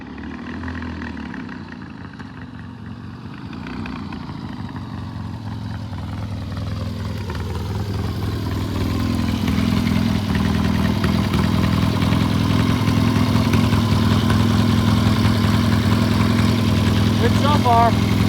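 A Triumph motorcycle engine idles steadily in a workshop, a low even rumble with light mechanical clatter that grows slightly louder and fuller over time, alone without talk.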